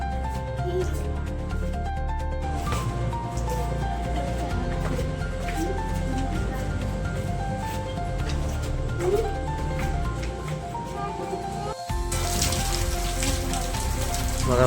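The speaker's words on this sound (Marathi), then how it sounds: "आम्ही बाहेर चाललो कल्याणला, तर पाऊस भरपूर आलाय म्हणून साईडला थांबलो" Heavy rain pours down on a roadside stop near Kalyan at night, a thick, unbroken patter that stays loud and close throughout, with a brief dropout just before it surges again.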